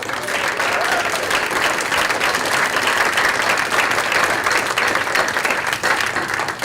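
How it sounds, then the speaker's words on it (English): A loud, sustained round of applause fills the hall at the close of an annual lecture, with many hands clapping evenly and continuously throughout. "give one more round of applause of thanks"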